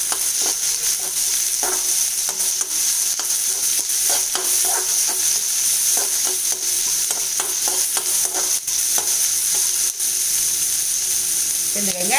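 Chopped onions with a little ginger and salt sauté in a pan for wheat rava upma, a loud continuous sizzle layered with quick rhythmic scraping strokes of a spoon stirring throughout, close and dense, no voices.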